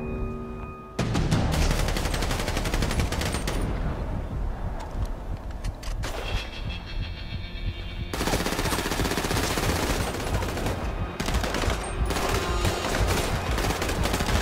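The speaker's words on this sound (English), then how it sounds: "I want you to stay here and just keep shooting" Rapid automatic gunfire in the video game GTA V, loud sustained bursts of machine-gun fire with brief gaps, close and dominating throughout.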